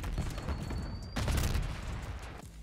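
A Semtex grenade blast in Black Ops 6, a sudden burst of explosive rumble that swells and lingers about a second, mixed with other gunfire noise in a busy firefight.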